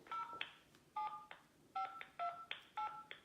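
An office phone on speakerphone dials out, sounding a quick run of about seven crisp two-tone DTMF beeps in irregular rhythm, close and fairly faint, with no talk.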